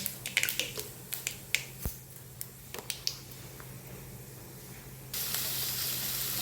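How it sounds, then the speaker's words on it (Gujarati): Mustard seeds and asafoetida spluttering in hot oil, sharp scattered pops crackling close by, then a steady louder sizzle in the last second. "હવે આપણે એમાં એડ કરીશું રાઈ, સેજ હિંગ. રાઈ પકડી જાય છે."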